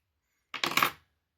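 Scissors snip fly-tying material on a trout fly, a single short crisp cut lasting about half a second, close and fairly quiet with no talking.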